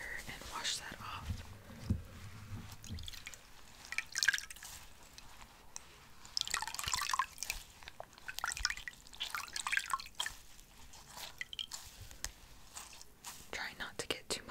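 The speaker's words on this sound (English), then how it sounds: "I'm going to just get some more water and wash that off" Water splashing and dripping while a skincare product is rinsed off in a pampering routine, soft close drips and wet swishes under quiet whispering.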